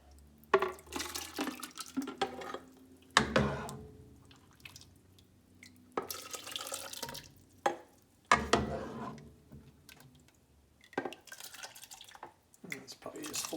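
Potato soup being scooped with a ladle, irregular wet slops and drips in separate bursts with quiet pauses between, close by, with a person speaking intermittently.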